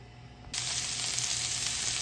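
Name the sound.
shallots sizzling in extra virgin olive oil in frying pan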